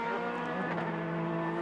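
A race car drives on Sepang circuit during Asian Le Mans Series qualifying, producing a steady droning engine note heard from a distance at moderate level with no break.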